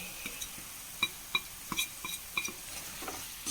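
Stirring half a spoon of turmeric and chili powders into a vaduka puli lime pickle in a hot pan, a faint sizzle under light scrapes and taps of the spoon, irregular and close, with no voice.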